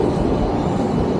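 Busy train station ambience: a dense, steady rumble and wash of crowd and rail noise, loud and continuous throughout the short stretch with no distinct individual events.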